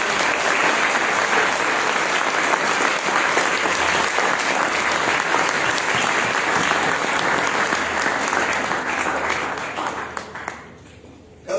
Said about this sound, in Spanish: un fuerte aplauso a Cristo Jesús